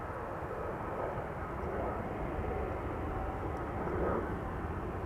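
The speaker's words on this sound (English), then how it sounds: "So, another BizJet just now took off over here." A business jet takes off from a runway at Amsterdam Schiphol Airport, its steady broadband engine roar heard from a distance, continuous and fairly even throughout.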